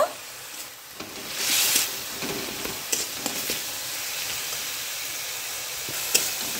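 Ginger paste added to onion and garlic frying in a pan, with a steady hiss of sizzling oil, a louder sputtering burst early on and a few scraping stirs.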